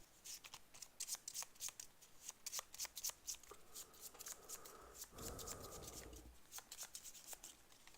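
Location cards for the Grand Bazaar in a tabletop card game being shuffled by hand, a rapid run of crisp riffling snaps and soft card slides repeating across the stretch, close and fairly quiet with no talk.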